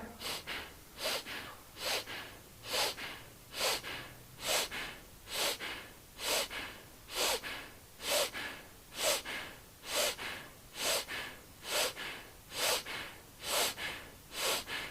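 Steady nasal breathing, in and out through the nostrils only, repeats as rhythmic breathy whooshes about once a second during a group exercise class, close and clear with no talk over it.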